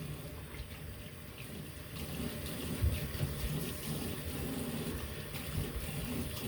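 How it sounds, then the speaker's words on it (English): Tap water runs steadily down a bathroom sink drain that has just been unclogged, a continuous close rushing and gurgling wash with no talking. "Let's run the water and see if we have drainage."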